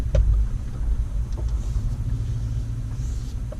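A car on new tires rolling to a stop on a high hillside, a steady low engine rumble close by that eases off slightly, with no voices.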